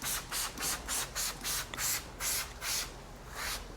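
Turtle Wax Hybrid Solutions graphene acrylic tire shine sprayed onto a tire, a run of about ten short, close hissing bursts in a steady rhythm that slows slightly toward the end.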